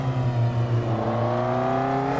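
Car engine in the Assetto Corsa racing game, a steady droning tone that rises slowly in pitch as the engine sound crossfades between samples, loud and alone.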